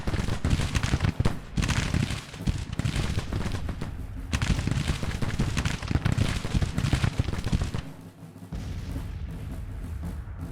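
Civil War-era guns firing in the strategy game Grand Tactician, a dense, continuous rumble of massed volleys and booming artillery, loud and sustained, easing briefly near the end.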